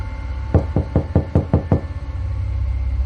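Seven sharp knocks on a wooden door come in a quick, even sequence, close and distinct against a low hum, followed by quiet.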